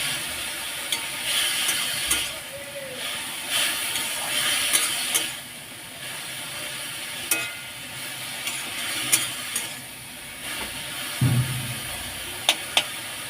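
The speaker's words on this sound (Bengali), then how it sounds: "বেশি ভাজবো না, সিদ্ধ জল শুকিয়ে নেব।" Radish greens fry in a pan with salt, cumin and coriander powder, giving a steady soft sizzle with scraping stirs and clinks of a spatula throughout, and a brief louder scrape near the end.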